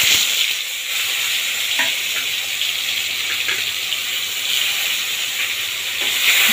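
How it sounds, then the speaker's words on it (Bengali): Black cumin seeds and a dried red chili sizzle steadily in hot oil for a tempering, a close, continuous crackle with a few sharper pops and no talking. "ফোড়নের জন্য নিয়েছি কিছুটা কালো জিরে আর একটাই শুকনো লঙ্কা।"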